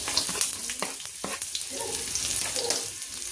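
Chopped onion sizzles in hot oil in a pan while garlic fried rice is cooked, a steady crackling hiss with a few stirring scrapes, close and continuous without talk.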